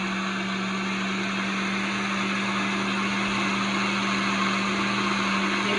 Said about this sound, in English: Good, 30 seconds on the blender.